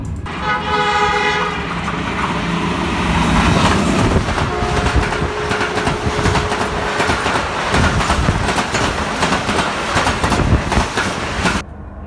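Tezgam express train rolling through Gujranwala station at slow speed, with a horn toot at the start and steady clattering of wheels on rails continuing loudly throughout before cutting off abruptly.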